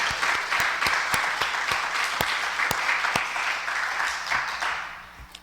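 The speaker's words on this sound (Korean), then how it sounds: "영광의 박수를 올려드립시다." A church congregation bursts into steady applause during a Sunday service, many hands clapping together loud and close for several seconds before it begins to taper off at the end.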